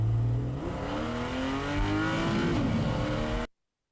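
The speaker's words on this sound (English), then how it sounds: "You only hear a car accelerating." Mercedes-Benz car accelerating with no music, engine pitch climbing steadily and loud, close throughout, then cutting off abruptly near the end.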